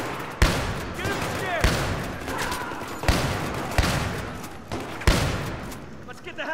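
Gunfire in the video game Battlefield 3, heavy rapid bursts repeating every second or so across the clip, loud and dense, with a faint voice now and then under the shooting.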